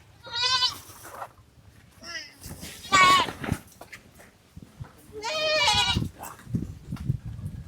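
Goats bleat in bursts outdoors, a loud wavering cry near the start, another around the third second and a long one near the end, with rustling and footsteps between and people talking nearby.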